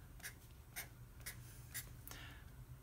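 Pen strokes scratching across paper while sketching an LSAT logic game diagram, a run of quiet, repeated short scrapes spaced about every half second over a low hum, with no talking.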